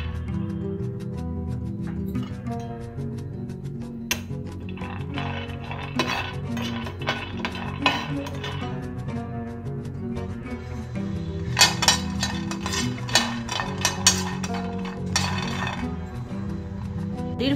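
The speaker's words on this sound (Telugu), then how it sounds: "స్టవ్ మీద పాన్ పెట్టి పల్లీలు ఫ్రై చేసుకోవాలి" Peanuts fry in a pan on a stove while a spoon stirs them, giving a steady run of clinks and scrapes against the metal that grows busier and sharper near the end.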